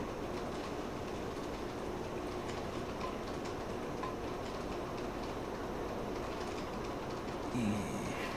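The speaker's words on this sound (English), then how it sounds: "this is pretty cool to see all the trains and stuff running" On30 scale model trains running on a home layout, with a steady rolling rumble and light rhythmic clicking of wheels over track joints, close and continuous, plus a brief squeal near the end.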